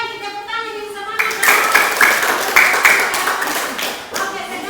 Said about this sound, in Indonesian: Sekali lagi tepuk tangan yang semangat.